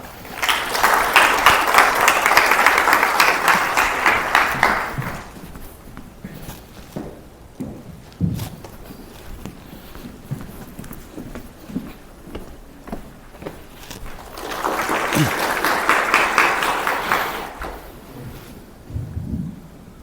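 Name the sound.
audience applause welcoming a speaker at a seminar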